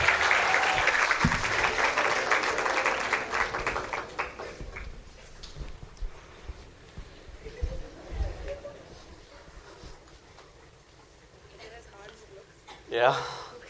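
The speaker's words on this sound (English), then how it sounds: "A round of applause for Shruti." An audience at a Carnatic music and yoga event claps for several seconds, then the applause fades while people start talking, with a short burst of noise near the end.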